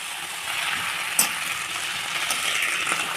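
Mint leaves fry in a little oil in a kadai for a Telugu-style mint chutney, giving a steady, close sizzle throughout with one sharp metallic clink of a utensil partway through.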